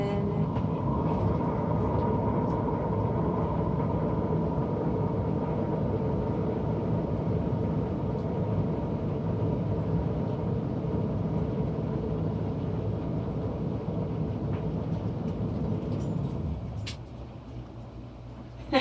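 A record spinner turns a Halloween-colored paint pour with a steady motor rumble and whir that runs evenly, then drops away near the end as it slows.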